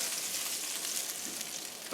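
Serrano and jalapeno peppers sweat in a hot pan with a steady, close hiss of sizzling that holds evenly for a couple of seconds before a brief bump at the end.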